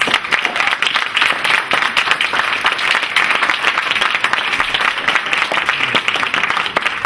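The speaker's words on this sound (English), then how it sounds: "So please give a very robust round of applause to our candidates." A robust round of applause for candidates at a Spokane forum on the Washington State Democrats chair election, many hands clapping steadily and close, loud and unbroken from start to end.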